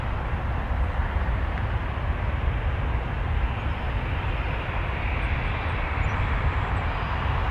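A landing airplane on runway 24 right at Toronto Pearson airport: a steady, broad jet roar that stays loud and constant throughout, heard from a distance with no voices.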